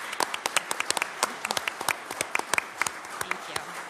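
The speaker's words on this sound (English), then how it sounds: "I think you deserve a round of applause." A small audience at a Law Day event in a courtroom applauds with scattered, distinct claps that stay fairly quiet, with no voices over them.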